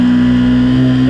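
A motorcycle engine with something off about it, running loud and close with a steady droning hum and a slight rise in pitch.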